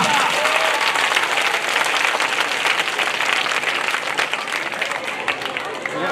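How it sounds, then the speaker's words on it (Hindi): A crowd clapping hands at an event in Gorakhpur with a Mahabharat actor: loud, sustained, dense clapping from many people, steady throughout, with voices mixed in underneath. "हाथों को लगाएंगे, ताली बजा।"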